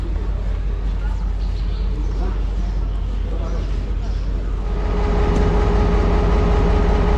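The Chenab Express stands at Sargodha Junction railway station, giving off a loud, steady low rumble of engine and rail noise throughout, with a constant hum swelling slightly toward the end.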